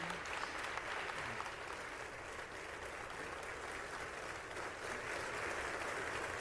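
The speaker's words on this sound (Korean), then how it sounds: "기립박수 오래 치고 있네요." A long standing ovation in a large chamber as the US House speaker announces she will step down from leadership, a continuous, even roar of many hands clapping, somewhat distant and quiet.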